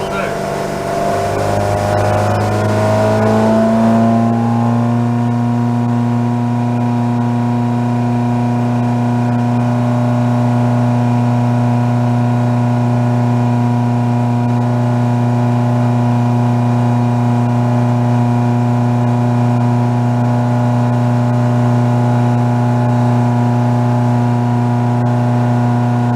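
A 34ft Hartley timber boat engine run up to wide open throttle with the trim down, a loud steady drone that rises as it accelerates, then holds a strong constant tone.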